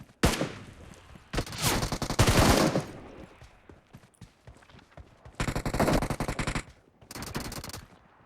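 Bursts of automatic gunfire in the PUBG Mobile video game, several loud rapid volleys separated by quieter gaps, close and dominant, with no talking.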